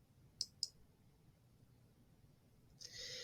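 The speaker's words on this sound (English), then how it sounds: "So I'm going to click that." Two sharp computer mouse clicks close together, crisp and near in a quiet room, followed by a soft hiss rising at the end.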